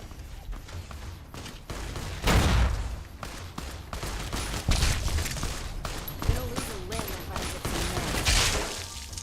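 Heavy gunfire and explosive bursts in Fallout: New Vegas, including a grenade rifle, come in repeated loud blasts over a busy, dense battle din, close and sustained, with occasional short voices.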